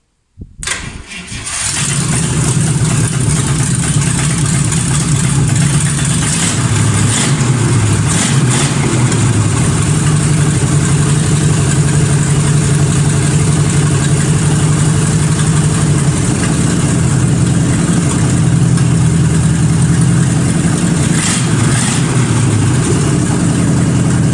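A Volga 21 car fitted with a ZMZ-511 engine cranks, catches and settles into a loud, steady idle close to the microphone, running on with a few slight changes in pitch.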